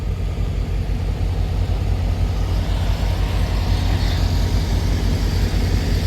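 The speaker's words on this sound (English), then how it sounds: "Traffic is moving." Continuous low engine drone from an over-the-road truck moving with traffic on a nearly dry winter road, a loud steady rumble with no talk.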